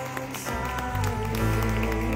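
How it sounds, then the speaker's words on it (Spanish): Applause from a church congregation at a Sunday service, steady and dense throughout, with music continuing underneath. "Denle un aplauso fuerte a Jesucristo."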